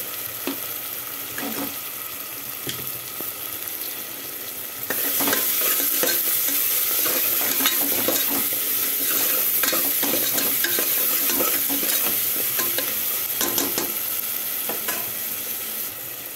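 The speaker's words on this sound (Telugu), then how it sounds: "ఉల్లిగడ్డలు వేగినాయి" Onions for a mutton curry fry in hot oil with a steady loud sizzle while a utensil stirs and scrapes through them, the frying growing louder partway through with no talking.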